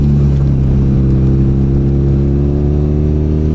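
A BMW R nineT motorcycle engine drones steadily and loudly while the bike is ridden through a corner, a constant low throbbing note with road and wind rush and no speech.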